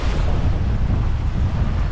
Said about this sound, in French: je suis en train de me battre avec le vent